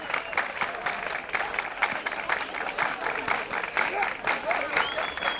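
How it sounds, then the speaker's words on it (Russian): Sustained applause and ovation from an audience honouring young WorldSkills regional championship winners at a college ceremony, steady rhythmic clapping throughout with voices under it. "Под нескончаемые овации и море аплодисментов юных мастеров своего дела награждают почетными грамотами и подарками"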